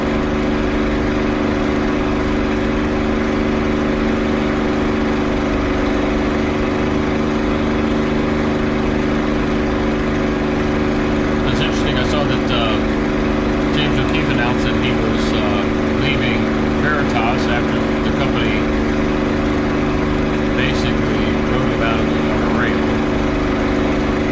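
Steady drone of a P-51 Mustang propeller engine at takeoff in the flight simulator DCS World, a constant loud hum with low tonal bands that holds throughout, with a few brief clicks and faint speech-like sounds in the second half.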